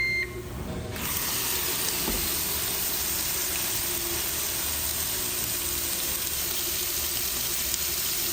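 Wagyu beef burgers sizzle on a Ninja Woodfire Grill, a steady, close, even hiss that starts after a brief quieter moment and carries on alone without pause.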